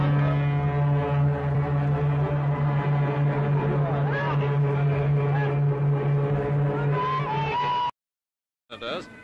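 The SS Burrito's ship horn blows a long, loud, steady tone with rich harmonics that holds for several seconds, with faint crowd babble beneath it, then cuts off before a short final burst.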